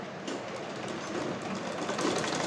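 A sewing machine stitches piping around the back neckline of a six-panel dress, giving a steady, continuous mechanical whirr and rattle that holds at an even level throughout with no voices.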